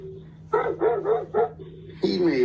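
A dog confronting a delivery driver barks in a quick burst of three or four loud, close woofs, then a final sharper bark after a brief pause, over a steady low hum.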